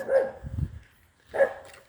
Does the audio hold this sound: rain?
no